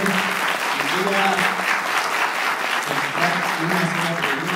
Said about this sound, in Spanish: Fuerte aplauso para la sociedad Marcela Ugalde.